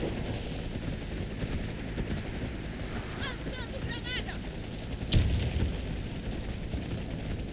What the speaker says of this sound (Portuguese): Helicóptero para extração.